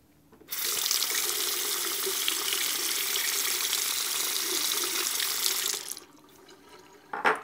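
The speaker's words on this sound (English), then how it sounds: "let's rinse off some of this" A bathroom tap runs steadily for about five seconds, rinsing a $1000 Formula 1–inspired Tedalus Velocity One safety razor during a wet shave, then stops, followed by a brief splash near the end.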